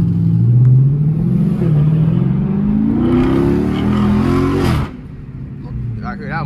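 Straight-piped Dodge Hellcat Jailbreak 300 revving hard, a loud deep exhaust roar that climbs in pitch over several seconds, then drops sharply to a lower rumble.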